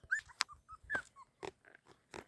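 Puppies whimpering and squealing in short, high-pitched cries with small gaps between them, close by and fairly faint, with no talking.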